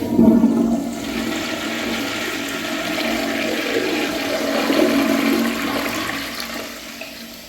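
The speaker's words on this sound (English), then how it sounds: "And that is the standard Tribor toilet." A first-generation Standard Tribor toilet flushes loudly and close up, opening with a sharp gush before a sustained rushing swirl of water that tapers off at the end, with no talking.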